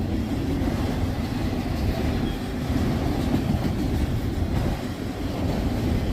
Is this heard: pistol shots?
no